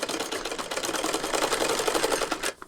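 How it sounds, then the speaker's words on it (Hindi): A sewing machine stitches fabric in a fast, steady mechanical chatter of needle strokes, close and loud, stopping abruptly near the end. "सिलाई को चलाते जाना है।"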